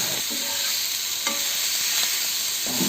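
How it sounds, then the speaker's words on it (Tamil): Ingredients for oats dosa sautéing in a pan over medium heat, a loud steady sizzle with a few brief stirring scrapes, close and without speech. "மிதமான சூடு வச்சு நல்லா பொறுமையாக வதக்குங்க"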